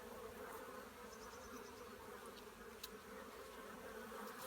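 Honey bees buzz in a steady, faint, close drone while a healthy hive is opened for its first inspection of the season, with no voices present.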